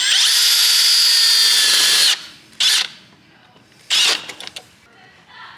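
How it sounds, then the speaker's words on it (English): A small power drill with a small bit whines at high pitch for two seconds, then two short bursts follow after pauses, close and loud, while installing a compound turbo on a 3rd-generation Dodge Ram Cummins diesel. "grab a little drill bit"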